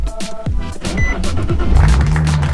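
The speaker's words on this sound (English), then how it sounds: "I'm going to turn off the car and see if it starts." A Datsun Z car's engine starts after a clutch install, cranking briefly before catching and settling into a close, steady idle with a rising hum.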